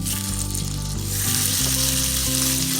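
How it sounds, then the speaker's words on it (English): Lamb chops sear in a pan of butter and olive oil, giving a loud, steady sizzle and crackle that holds throughout with no talking. "Combine butter and olive oil for searing as it provides a nice golden brown crust"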